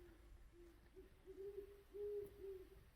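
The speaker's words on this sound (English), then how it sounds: "Right there on the other side of that little rock right there is a great horned owl." A great horned owl hoots at night beyond a small rock in the City of Rocks, giving several low, soft hoots in an irregular sequence, moderately distant and calm, with no other voices.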